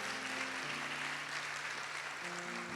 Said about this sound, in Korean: 따뜻한 박수를 해주시기 바랍니다.